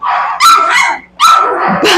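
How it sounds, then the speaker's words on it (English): Three-week-old puppies bark in a kennel, two loud, close bursts of high yipping barks separated by a brief pause, shrill and echoing. "They look at you, they're barking at you, they're interactive with you"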